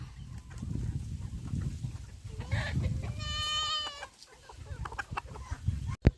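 Chickens cluck and a rooster-like call rings out briefly amid outdoor farmyard noise, with a sharp knock near the end.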